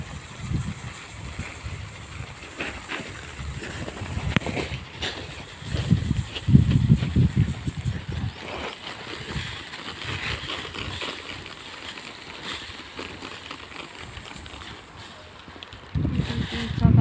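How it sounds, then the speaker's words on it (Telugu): Strong wind gusts outdoors on a farm ahead of a storm, a rough, rushing roar with buffeting bursts against the microphone and faint voices underneath. "గాలి బాగా వస్తున్నది"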